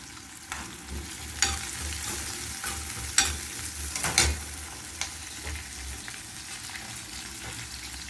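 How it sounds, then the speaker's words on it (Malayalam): Hot, halved dried red chillies fry in a pan for a turkey berry curry, giving a soft steady sizzle with a few louder clatters and scrapes of stirring, close and fairly quiet. "ഈ അഞ്ചെണ്ണം നമുക്ക് രണ്ടായിട്ട് മുറിച്ചിട്ട് കൊടുക്കാം"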